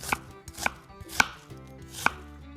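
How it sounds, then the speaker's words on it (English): A knife chops vegetables into different shapes on a cutting board for Indian meal prep, with four crisp, separate thuds at a slow, uneven pace, close and clear, with no speech. "I love cutting them in different shapes and sizes"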